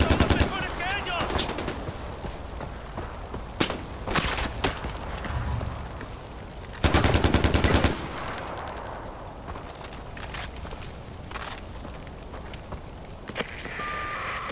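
Bursts of rapid gunfire crackle through a busy Far Cry 4 game soundscape, with a long loud volley midway and scattered shots, footsteps and effects around it.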